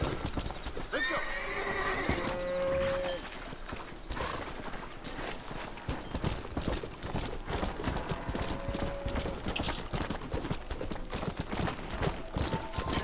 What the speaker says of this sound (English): my horse finally has a saddle on it